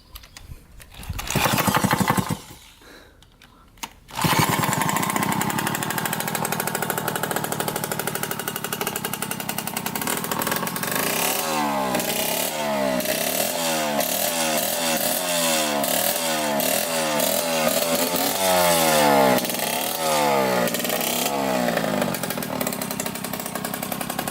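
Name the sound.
Yamaha YSR motorcycle engine starting and running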